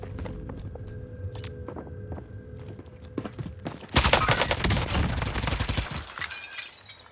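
Gunfire while jump shotting in the Warzone video game: scattered shots and footsteps over game tones, then a loud, rapid burst of automatic fire that trails off near the end; no talk.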